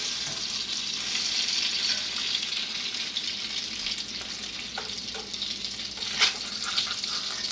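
Salmon patties fry in a cast iron skillet and give off a steady, close sizzle that carries all the way through. A few light clinks and scrapes from utensils rise over it now and then.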